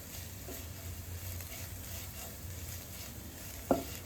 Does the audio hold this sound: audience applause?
no